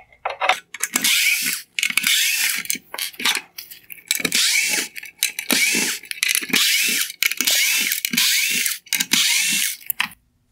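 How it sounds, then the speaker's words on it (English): A power driver backs T20 Torx screws out of a Porsche Cayenne LED headlight. It whirs in short, loud bursts with brief pauses between them, each burst a harsh, buzzy spin close to the listener. "Next, I'm going to remove the lens holder by removing the T20 Torx screws."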